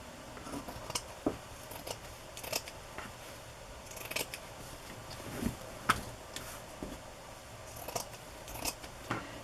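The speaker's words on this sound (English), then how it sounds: "So I am using the green line to try to cut straight" Scissors snip through a journal cover along a line of green stitching, with sharp, close cuts recurring irregularly over quiet room tone and no talking.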